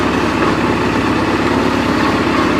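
A John Deere-style 20-G lawn tractor engine running steadily, a loud, close, continuous rumbling drone with no pauses.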